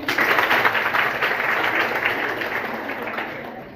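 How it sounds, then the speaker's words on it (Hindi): Group clapping at Bhagirathi Inter College in Varanasi, where students applaud a classmate's answer; a dense, even wash of hands that holds steady and tapers slightly toward the end. "very good, Tali बजाइए"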